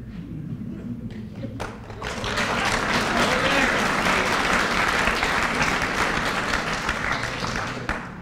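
A lecture audience bursts into applause at a talk on the economy and inequality, sparse claps quickly swelling into loud, sustained, dense clapping that carries on to the end.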